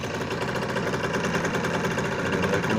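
Motorcycle engine idling at 1800 to 2200 rpm while warming up, a continuous rapid mechanical chatter with a steady pulsing throb, loud and close without a break.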